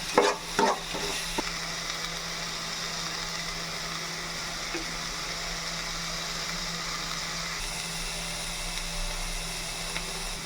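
Ginger and garlic paste fries in a small amount of oil in a pan for katla fish curry. A few utensil clinks open over a quiet, steady sizzle that continues alone.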